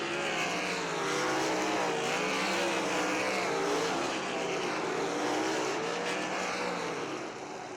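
Race cars roar steadily around the oval at Limaland Motorsports Park during a Great Lakes Super Sprints heat race, a loud, continuous engine drone with shifting pitch as the pack passes, no talk over it.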